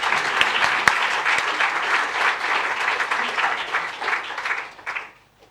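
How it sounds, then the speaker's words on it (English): Lecture audience giving a sustained round of applause after a peace lecture, a loud, even wash of clapping that holds steady and then fades away at the end. "I think that deserves another round of applause,"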